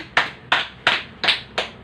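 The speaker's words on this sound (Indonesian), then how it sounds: "Mari kita berikan tepuk tangan." Classroom applause for a student's chemistry presentation: five sharp, evenly spaced claps or clap bursts, close and fairly loud, with no talk over them.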